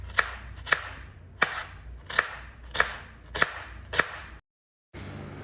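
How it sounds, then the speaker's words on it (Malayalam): A knife chops an onion on a cutting board in seven crisp, evenly spaced strokes, close and clear, before a sudden silence and a faint return of room noise. "അപ്പം ഇനി ഇതിപ്പം അരിഞ്ഞെടുക്കട്ടെ"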